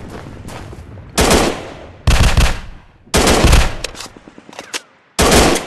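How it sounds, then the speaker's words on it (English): Automatic gunfire in the Real Commando action video game. Several loud, close bursts of rapid shots are separated by short gaps, with fainter shooting in between. No speech is heard. "Under heavy fire! Protect the flag! I'm under heavy fire!"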